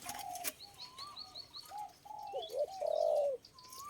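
Baby bird in a cage giving a series of thin, quick chirps and short cooing whistles, close but soft, with a few faint clicks and rustles around them.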